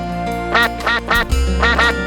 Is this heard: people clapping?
no